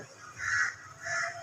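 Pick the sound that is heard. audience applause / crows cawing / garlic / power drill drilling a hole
crows cawing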